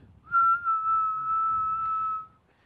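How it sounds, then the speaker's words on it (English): A person whistles a single sustained, steady note to set putting stroke tempo in golf, a clear tone held for about two seconds over faint low background noise. "we simply whistle. We set up here, we start whistling"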